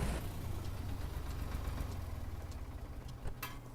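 A tractor engine idles with a steady low rumble in the farming game Farmer's Dynasty. The drone holds at an even level throughout, with faint ticking on top.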